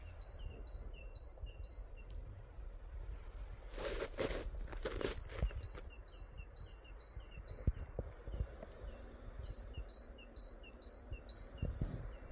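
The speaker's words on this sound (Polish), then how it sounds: "Ze mną już ptaszki" Birds chirp and sing outdoors in early spring: quick, high repeated calls from a few birds at moderate distance, with a brief burst of louder crunching and footsteps in the middle.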